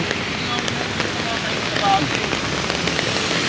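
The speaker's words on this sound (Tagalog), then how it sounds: "maulan po talaga" Heavy rain pours steadily outdoors, a dense continuous hiss of drops striking surfaces, loud and unbroken throughout.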